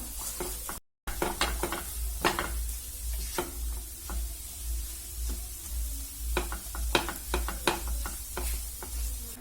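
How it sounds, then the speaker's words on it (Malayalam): Mashed potato being stirred into frying masala for samosa filling: steady soft sizzle with repeated scraping strokes of a spoon against the pan, close and moderately quiet, no talking. "ഈ പൊട്ടാറ്റോ ചേർത്തിട്ട് നന്നായിട്ട് മിക്സ് ചെയ്യുക"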